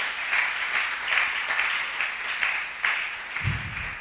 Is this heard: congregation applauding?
yes